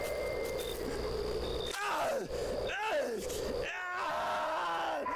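Screams of pain on a leaked FBI tape: drawn-out, wavering wails rise and fall over a steady background hum, several anguished cries in succession, fairly faint and muffled.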